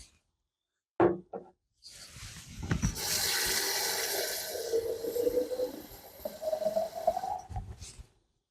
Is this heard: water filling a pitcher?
yes